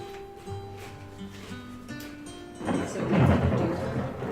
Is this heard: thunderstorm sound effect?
yes